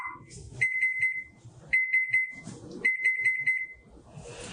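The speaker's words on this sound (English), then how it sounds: "we turn the timer off" A kitchen timer alarm sounds in three short bursts of rapid high beeping, loud and close, with kitchen clatter and movement in between.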